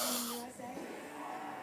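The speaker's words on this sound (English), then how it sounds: "Going ham on the snoring." A man snores in a sleep after a long night out in Vegas, a rough nasal rasp under steady background noise, with faint voices nearby.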